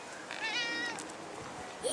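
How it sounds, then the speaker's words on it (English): A small, gentle kitten meows near the listener in one rising, wavering call, with a person talking softly around it. "Oh my goodness, and here comes a kitty."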